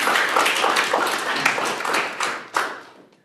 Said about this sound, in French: On peut applaudir Paul Mirabel.